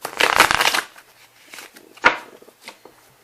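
Tarot cards are shuffled up close in a quick papery riffle, then a few softer flicks and one sharp snap of the deck a moment later.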